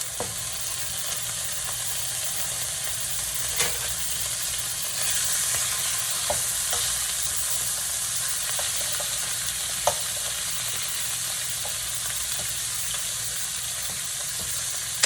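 Steady, crackling sizzle of a whole stick of butter frying in a hot pan, close and continuous, with occasional faint clicks and pops.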